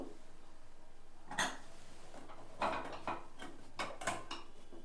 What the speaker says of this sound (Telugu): ఇప్పుడు ట్వంటీ మినిట్స్ తర్వాత మూత తీస్తున్నాను